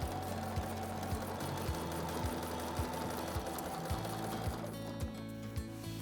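A sewing machine stitches steadily during ruler quilting on a triangle grid design, a close, even hum with a regular mechanical tick repeating about twice a second, with no talking.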